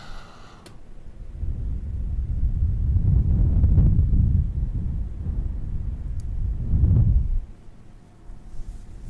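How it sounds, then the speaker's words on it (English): Wind blows across the microphone in low rumbling gusts that swell and fade over several seconds before easing off, with no talking. "The wind, the wind. The wind, the wind."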